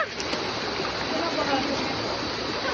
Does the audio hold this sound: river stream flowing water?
yes